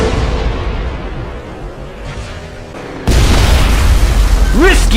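Weapon fire explosion in the Halo Reach game, a loud booming blast that cuts in sharply partway through over a constant rumble of battle noise, with voice-like tones rising at the end.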